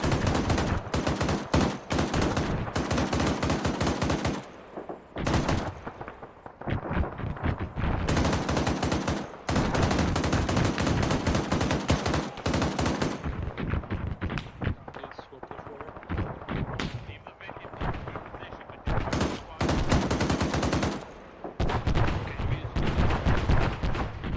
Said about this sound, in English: AGS fire hitting to our right